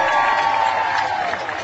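Baseball crowd cheering a home run, a dense steady roar of many voices with scattered whoops, loud and continuous throughout.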